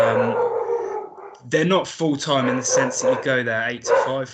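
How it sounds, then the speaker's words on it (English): A dog howls and barks in the background of a home, a drawn-out howl at first and then fainter barking under a man's steady speech. "Apologies for the barking in the background, the dog's going mad."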